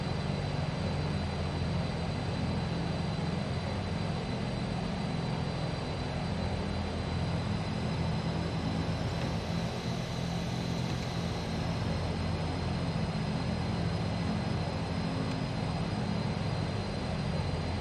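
Airliner engines roar steadily on the runway at takeoff in a flight simulator, Islandways flight departing runway 24 at Sint Eustatius, a continuous loud drone with a slight swell midway.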